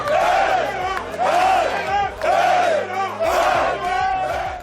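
A sports crowd of fans roars in loud, sustained rhythmic chants, voices rising and falling in repeated surges with a pulsing beat underneath, close and continuous throughout.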